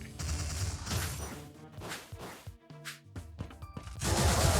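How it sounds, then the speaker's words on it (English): Chaotic bursts of explosions and magic blasts in the action roguelike Wizard of Legend, loud crashing booms and whooshes piling over busy game music with sharp hits throughout. "just getting knocked around by the explosions"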